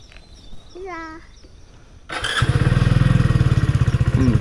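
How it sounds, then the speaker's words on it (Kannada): A motorbike engine starts up after a short quiet stretch with a brief voice, then settles into a loud, close, steady idle. "ಸ್ಟಾರ್ಟ್ ಮಾಡಿ ಗಾಡಿ"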